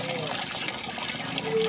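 Water gushes steadily from a source where water for bathing is being fetched, a continuous broadband rush heard up close with a faint tonal whine, no talk over it.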